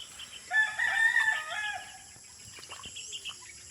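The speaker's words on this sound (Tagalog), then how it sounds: "Pakainin muna natin yung manok ni Krishna dito." A rooster crows loudly once, a long rising and falling call, while chickens cluck softly around it in an outdoor setting.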